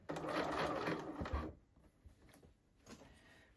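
A sewing machine stitches a blazer's pocket lining in one fast, close burst of about a second and a half, then stops, leaving a quiet room with faint handling noises.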